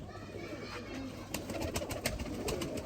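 A male breeder pigeon coos softly in a home loft, a few low rolling coos over faint background hiss with no talk.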